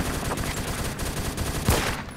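Rapid continuous gunfire in the Roblox shooter Phantom Forces, with an AN-94 rifle in use, dense crackling bursts rattling steadily with one louder close shot near the end.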